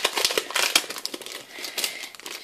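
Package being opened, with crisp crinkling and rustling of wrapping in a continuous, close stream of irregular crackles.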